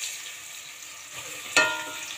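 Mustard oil goes into a hot pan before frying pieces of large fish for a tomato fish curry. A low, steady background hiss breaks into a sudden sharp sizzle near the end.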